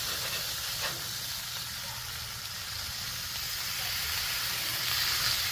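Hatch green chile cheddar sausage sizzles on a hot Blackstone griddle, a steady close hiss that holds evenly and swells slightly toward the end, with no speech.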